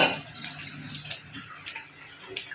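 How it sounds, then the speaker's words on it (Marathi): Water with barnyard millet boiling at a soft, steady simmer, broad hiss and small pops throughout, fairly faint and close, no talking. "हे बघा अशा प्रकारे उकळे येते आपल्या भाताला"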